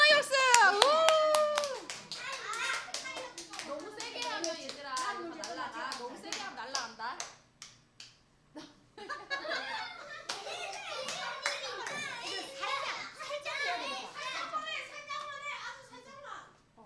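Children clap fast and energetically in a church children's class, a dense patter of many small hands mixed with excited kids' voices and an adult talking over them, the clapping fading briefly midway before picking up again.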